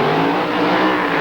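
A drag racing funny car wearing a Saab body thunders down the Santa Pod strip, a loud, sustained, raw engine roar filling the whole moment without a break.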